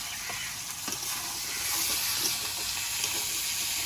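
Tomato frying in a pan with cumin and ginger paste, a continuous bright sizzle with faint stirring clicks, steady and close, no voices.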